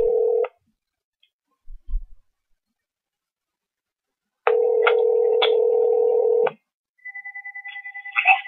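A telephone line gives a steady dial tone in two separate stretches, then a rapid series of short dialing beeps and tones follows, loud and clear with long silent gaps in between.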